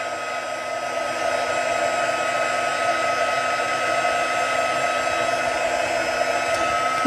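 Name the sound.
heat tool drying watercolor on a card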